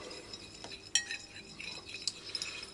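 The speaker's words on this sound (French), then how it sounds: "Je mélange." A spoon stirs a scallop and oyster tartare mixture in a bowl, giving faint scraping and a couple of light clinks against the dish, close and quiet.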